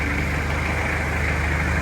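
A loader tractor idles steadily nearby, a continuous low engine drone with a broad, even rumble and no change in pace.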